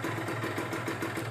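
Kawasaki Ninja two-stroke motorcycle engine idling on a cold morning, a steady low rhythmic putter with even pulses, heard close and alone.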